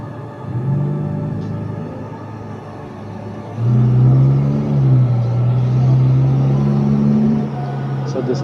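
A passing car rumbles close by with a low engine drone that swells and holds loud for several seconds before easing off, heard in a street setting.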